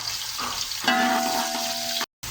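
Onions fry with garam masala for chana pulao, a close, even sizzle that swells and brightens partway through with a faint tonal ring, then cuts to a brief silence before resuming.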